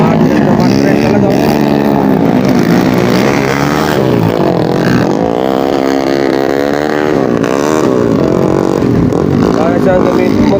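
Underbone motorcycles roar through an open-class final heat at a motocross invitational in Baler, their engines whining and revving continuously and loudly while a commentator talks over them.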